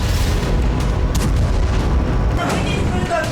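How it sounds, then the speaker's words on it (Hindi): A heavy, continuous roar of a distant FAB-500 aerial bomb explosion in Donetsk, a dense low rumble that swells and lingers with crackling debris-like texture. "डोनेट्स्क में रूस की सेना ने एक जबरदस्त धमाका किया"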